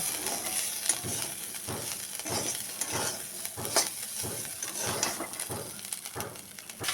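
Snake gourd peels fry with potatoes in a pan, a dense, steady sizzle with regular stirring scrapes and clinks repeating about every half second, close and without talk.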